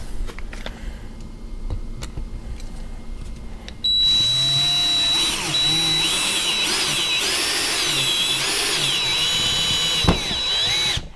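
A power drill whines up and drives a screw into wood without pre-drilling for several seconds, its pitch wavering under load, after a quieter stretch of faint handling noise.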